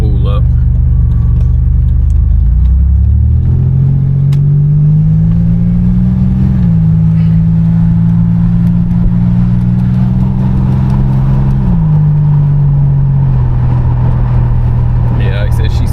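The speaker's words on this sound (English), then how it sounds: "just hearing that turbo spool up" A 1987 Buick Grand National's turbocharged engine spools up: a loud, steady drone climbs in pitch, holds for several seconds, then drops back to a lower idle-like hum, continuous throughout.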